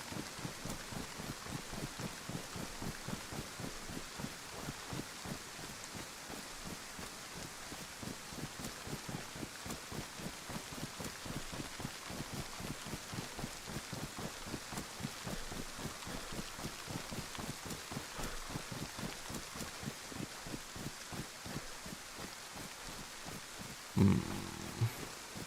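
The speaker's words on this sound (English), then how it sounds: "Another really bad part of the rain is it's harder to hear animals." Steady rain falls in the DayZ survival game, a dense continuous hiss with pattering drops and a faint rhythmic pulse throughout, unbroken until a brief louder thump near the end.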